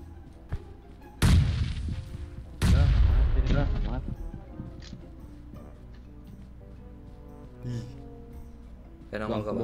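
Explosions and gunfire in a PUBG Mobile match sound as two heavy, loud blasts with long rumbling tails, followed by scattered sharper shots and a later burst, while players talk throughout.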